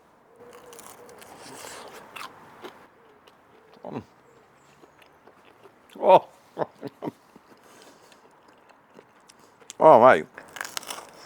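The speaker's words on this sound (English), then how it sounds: "Can you hear that crunch?" Someone bites into hot, crunchy smoked pork belly, giving several sharp crunches and crackles, the loudest near the end. Someone talks and exclaims between the bites.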